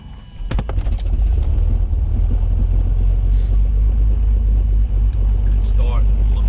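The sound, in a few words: Beechcraft Baron aircraft engine starting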